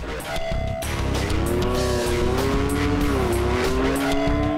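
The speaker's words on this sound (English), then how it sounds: "Ron hits fourth gear, flying at 175 miles an hour." A motorcycle racing at about 175 mph in fourth gear on a record run, its engine a loud, close, sustained high whine that climbs steadily in pitch under a roaring wind rush.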